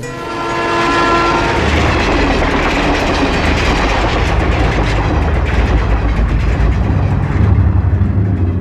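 A train on the Tinsukia to Guwahati route rumbles past at close range, its horn sounding briefly at first, then a loud, continuous roar and clatter of wheels on the rails.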